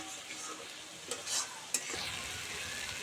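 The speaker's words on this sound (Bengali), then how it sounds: "আর একটু নেড়েচেড়ে আমি রসটা মেরে নেব" Dried fish and green tomato curry being stirred in a pan as the liquid cooks down: a steady close sizzle with a few louder scraping strokes, and no talking.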